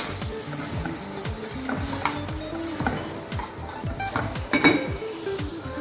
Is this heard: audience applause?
no